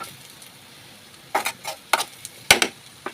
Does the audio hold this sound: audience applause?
no